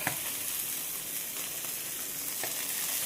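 Katla fish frying in a little oil, a steady hiss and crackle with occasional sharper pops and a stir or two, no talking.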